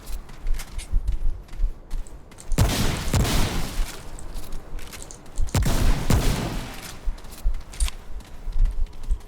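Gunfire in the video game Remnant: From the Ashes comes as two loud, dense bursts of rapid shots a few seconds apart, with busy clattering game sounds filling the gaps between them.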